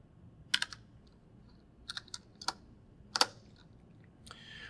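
Keystrokes on a computer keyboard, typed in short irregular bursts of crisp clicks with pauses between them, close by and fairly quiet, no voices.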